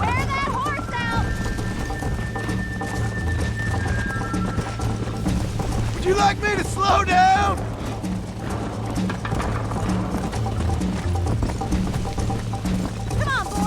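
Rapid hoofbeats of a galloping horse in Red Dead Redemption clatter steadily beneath excited speech, with a brief whinny and a sustained tone early on.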